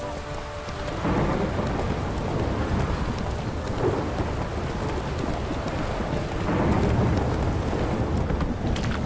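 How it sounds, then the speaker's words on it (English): Steady rain pours down with rolling thunder rumbling throughout in The Witcher 3: Wild Hunt, a continuous wet hiss with deeper swells of thunder around the start and again near the end, no voices. "Don't stop raining, my arse will rot off."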